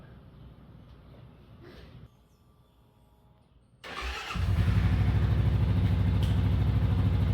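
A KLR 650 motorcycle starts after a few quiet seconds of faint handling noise, its engine catching suddenly and settling into a loud, steady, close idle.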